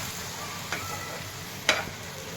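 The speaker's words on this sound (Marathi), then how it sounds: "दूध टाकून छान मिक्स करून घ्यायचं आहे" Banana halwa cooked in ghee is stirred in the pan after warm milk goes in: a low, steady bubbling hiss with two sharp spoon clinks against the pan, close by, with no talking.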